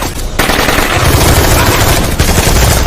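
Loud, dense gunfire erupts in a film as a pilot shoots at terrorists, rapid automatic bursts overlapping continuously for nearly three seconds with a brief gap midway.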